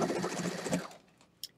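A sewing machine stitches quilt pieces with a close, rapid, buzzing run for almost a second, then stops, leaving quiet with a couple of faint clicks.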